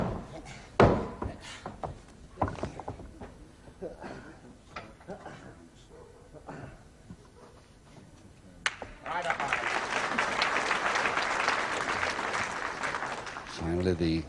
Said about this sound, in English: the crowd now really showing us that they do appreciate good escape moves, as their applause showed then